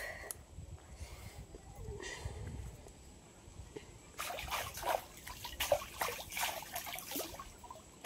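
Splashing and trickling water as someone bathes with warm water after soaping up, with soft pours early on and a run of louder, close splashes in the second half.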